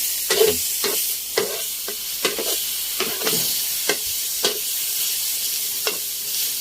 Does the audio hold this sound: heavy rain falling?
no